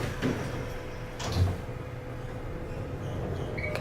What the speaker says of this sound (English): Door close button works.